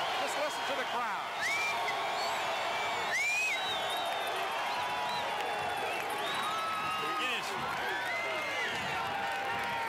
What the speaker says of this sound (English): Listen, just listen to the crowd.